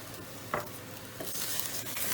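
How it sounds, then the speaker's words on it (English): A spoon scrapes and swirls through tomato soup in a saucepan, with a few soft clicks against the pan over a quiet bubbling hiss. "Then give that all a good mix."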